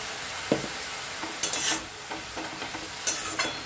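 Spinach frying in a pan with tomato and turmeric being stirred, soft sizzling with a few scraping stirs and clinks of the spoon against the pan, no talking.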